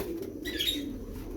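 Soft pigeon coos and chirps at a pigeon market in Shahdara, Lahore, a brief faint burst over low background murmur.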